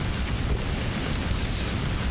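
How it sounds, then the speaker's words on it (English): Steady roaring rush of waterfalls forming the ambient background in a video game, a dense even wash of falling water that holds constant from start to end with no talk. "That's the waterfalls, the background sound."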